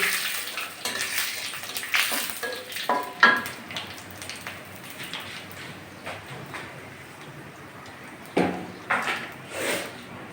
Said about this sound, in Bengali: এখন আমি পাঁচ পাঁচফোড়ন দিয়ে দিলাম আর তেজপাতা আর শুকনো লঙ্কা ফোড়ন দিয়ে দিলাম